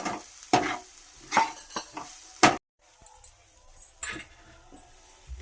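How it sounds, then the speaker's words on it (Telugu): A spoon scrapes and clanks in a pan of onion samosa filling with poha. Several distinct stirring strokes sound over a soft sizzle, with a brief pause before quieter scraping resumes. "అన్నీ కలుపుకోవాలి."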